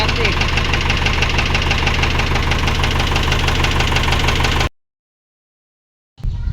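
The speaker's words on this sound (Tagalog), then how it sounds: "4HJ1 kabrader, engine malagatak." An Isuzu 4HJ1 diesel engine idles with a loud, steady metallic knock, close up for several seconds before cutting out to silence, then briefly restarting at the end.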